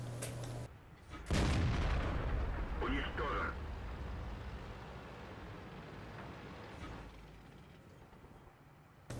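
A T-62A tank cannon fires in a tank video game with a sudden heavy boom, followed by a long rumbling decay; a voice speaks over parts of it.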